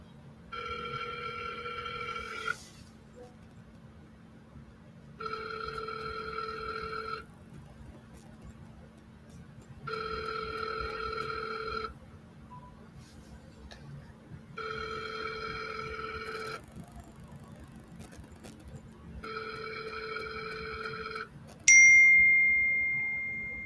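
An outgoing call rings back in five evenly spaced, electronic telephone ring bursts separated by silent gaps, followed by a brief higher tone at the end.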